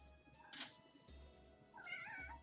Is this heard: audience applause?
no